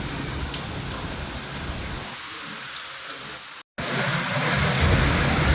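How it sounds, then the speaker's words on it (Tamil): Heavy rain lashes a rooftop terrace in Erode under strong gusting wind, a loud, dense close-up hiss that briefly cuts out before returning with full force. "மழை சத்தம் தான் பயங்கரமா கேக்குது"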